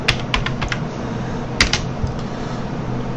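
A network command being typed on a computer keyboard, heard as a short burst of close key clicks and a second cluster of taps over a steady room hum.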